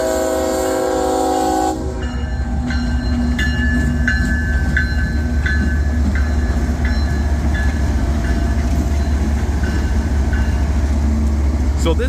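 A loud freight train rumbles past a railroad crossing in Deshler, Ohio at close range, wheels clattering steadily, with a horn blast at the start and metallic squeals over the roar.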